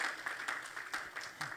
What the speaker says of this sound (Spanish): Denles aplauso al Señor si cree esta palabra